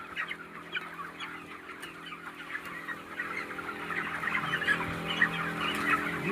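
Chickens clucking inside a poultry farm form a dense, continuous chatter of overlapping calls that builds slightly louder over several seconds, with no talking.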